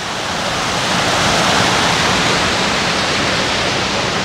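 Water pours down Tannery Falls in Savoy, Massachusetts, a loud, dense, unbroken rush heard up close with no voices over it.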